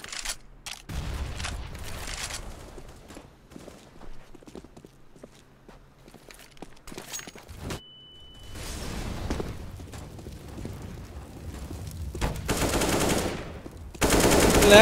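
Gunfire in a CS:GO professional league match, with sharp automatic and single shots in bursts separated by quieter stretches of footsteps, then heavy dense firing toward the end.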